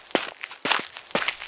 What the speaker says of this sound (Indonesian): Pak Burhan kembali ke dalam dengan langkah kaki berlahan.